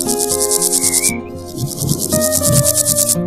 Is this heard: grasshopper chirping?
yes